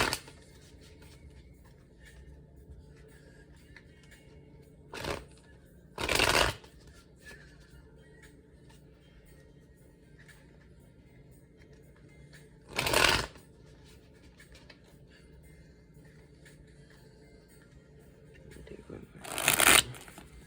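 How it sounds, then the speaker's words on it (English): A tarot card deck is shuffled in four short bursts of riffling, spaced apart and fairly close, each a quick papery flutter over a quiet room. "I'm going to shuffle the first deck just a few more times and split the deck"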